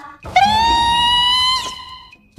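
A shrill, sustained scream from a scene in an anime film, loud and close, rising sharply, holding for over a second, then cutting off.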